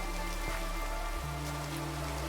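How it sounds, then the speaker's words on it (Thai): Minecraft rain falls as a steady, dense hiss of close drops that never lets up, over a low continuous hum, with no talk. "ฝนตกแบบนี้มองยากด้วยนะครับ"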